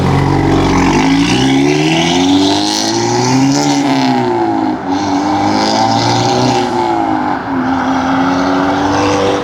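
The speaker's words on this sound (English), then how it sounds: "Even with the exhaust pointed towards me, I could still hear the blow-up valve." Hyundai Elantra N (2023) with an aftermarket blow-off valve, heard from outside with the exhaust aimed toward the listener; a loud, continuous engine roar with rising and falling revs and no speech.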